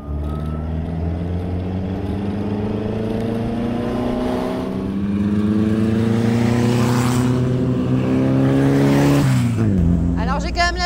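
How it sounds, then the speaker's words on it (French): A 1957 original Meyers Manx beach buggy with a Beetle-derived engine drives along, its air-cooled motor droning and climbing in pitch through the gears before easing off near the end, heard from the cockpit, loud and close. "j'ai quand même la chance de rouler dans une beach buggy de 1957. Une originale Meyers Manx"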